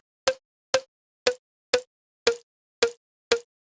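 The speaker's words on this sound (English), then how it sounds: "I like the flam a little bit" A short, punchy drum flam sample repeats seven times at a steady pace, each with a quick doubled attack and a brief decay.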